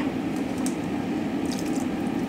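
Water is poured into a pan of simmering ham with cream for gnocchi, giving a steady wet splashing and bubbling wash, close and fairly loud, with faint clinks.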